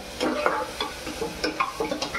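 A spoon stirs a thick, sizzling turmeric masala in a pressure cooker, with repeated scraping strokes in an uneven rhythm, close and moderately loud.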